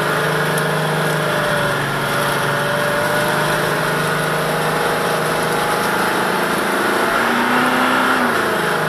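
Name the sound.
Toyota V8 diesel engine revving while stuck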